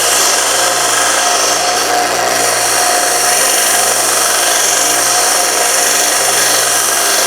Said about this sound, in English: So back to the belt sander right here. Just wanna clean the end up